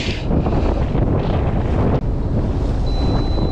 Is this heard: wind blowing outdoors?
yes